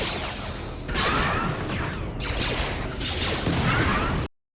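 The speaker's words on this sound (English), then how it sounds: "A little explosion. That might have been someone's like explosive belt." A small explosive belt detonating during a RimWorld battle, heard as a couple of loud, broad blasts with crashing, whooshing noise that sustains for several seconds before cutting off abruptly.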